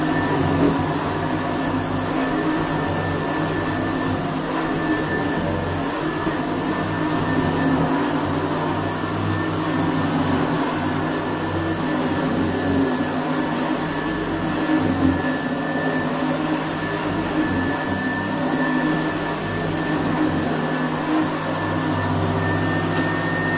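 A 1984 Hoover Powerplus Dustcup U4302 vacuum cleaner running, a steady, even motor drone with a constant high whine that holds unbroken throughout.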